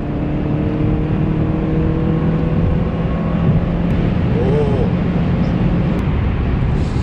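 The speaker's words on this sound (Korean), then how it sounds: "자, 한번 가속을 해 보겠습니다." A Renault Samsung SM6 car accelerating, heard from inside as a loud, steady engine drone mixed with road noise that holds throughout.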